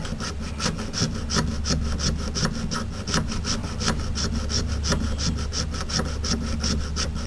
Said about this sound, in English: I can use a little power tool to kind of hog it out